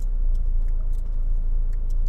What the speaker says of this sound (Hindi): वो देखिए, आगे गाड़ी आ रही है